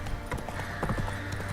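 Roach, the horse in The Witcher 3, trots with quick, steady clip-clop hoofbeats, clear and near, over a low ambient hum.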